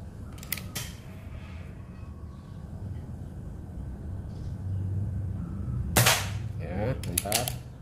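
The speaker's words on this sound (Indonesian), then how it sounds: "Tembakan ke-9." Close, sharp cracks from a mini PCP air rifle with a 30 cm barrel and 38 mm dural tube: a faint click early on, then a loud shot followed by a few quick clicks near the end, over low background rumble.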